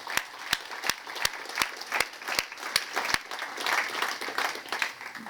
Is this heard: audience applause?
yes